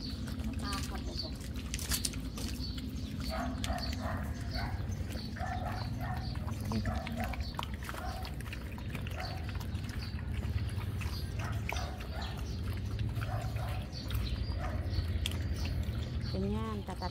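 Puppies being fed give occasional small barks and yips amid feeding noises, while people talk over them throughout.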